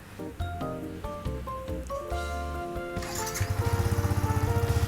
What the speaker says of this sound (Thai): ลูกค้ามาฟังเสียงท่อเดิมกันหน่อยดีกว่านะฮะ